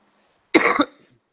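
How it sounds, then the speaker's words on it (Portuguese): A single harsh cough bursts out close by, a short rough burst that trails off quickly into silence. "Peço desculpa da tosse"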